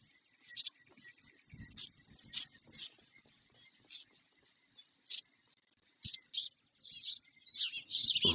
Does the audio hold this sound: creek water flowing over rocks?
no